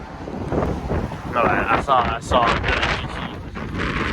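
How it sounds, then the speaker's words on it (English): Strong wind buffets a microphone outdoors at a Porsche dealership, a steady rushing roar with gusty swells throughout, while someone talks over it. "sorry for the windy, sounds and whatever. It is very windy today."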